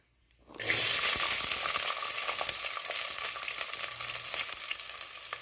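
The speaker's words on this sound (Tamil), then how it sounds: "வெங்காயம் கொஞ்சம் வதங்குற அளவு நம்ம அதை நல்லா வதக்கிக்கலாம்" Small shallots sautéing in a clay pot start abruptly into a loud, continuous close sizzle with light stirring scrapes running throughout, no voices.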